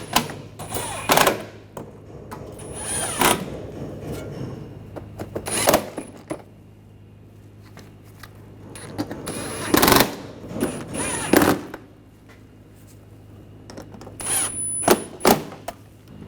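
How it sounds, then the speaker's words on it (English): Nuts being tightened on a 2009-2013 BMW 328i during an air temperature sensor and harness replacement: bursts of ratcheting clicks and sharp metallic tool clatter, close and loud, separated by quieter gaps. "Put that nut on. And you can tighten these all down."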